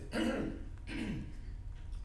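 Two harsh bursts of coughing and throat clearing, close by, separated by a short pause, with faint rustling afterward, during a county commissioners' meeting.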